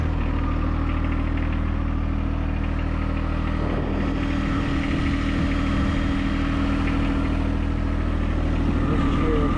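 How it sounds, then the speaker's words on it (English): A cold John Deere 1025R compact tractor engine idles steadily as it warms up outdoors, a constant low mechanical drone that stays loud and even throughout with no voices over it. "Wait for my tractor to heat up."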